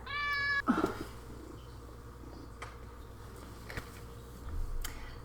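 A cat gives one short, clear meow near the start, followed by quiet room noise and a few faint taps and rustles.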